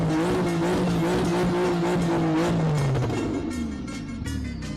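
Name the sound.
car engine idling with turbo whistle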